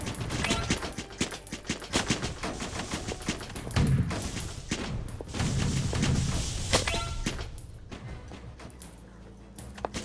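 Rapid bursts of automatic gunfire crackle in quick succession, mixed with mechanical clicks and whooshing game effects, loud and close.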